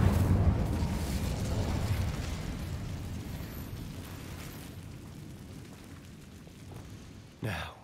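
A fire spell cast in the Hogwarts Legacy video game, a deep rumbling whoosh that fades slowly over several seconds, followed near the end by a short sharp burst of flame.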